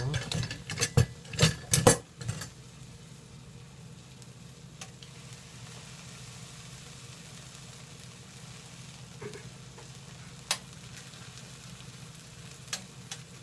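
Egg and matzoh frying in a pan while a spatula presses them down, a few sharp scraping clatters at first, then a low steady sizzle with occasional small clicks.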